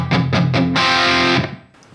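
An electric guitar with a heavily distorted tone runs through a Torpedo Wall of Sound into two Mesa Boogie 4x12 cabinets with Vintage 30 speakers. Three loud palm-muted chugs lead into a sustained ringing chord that fades out.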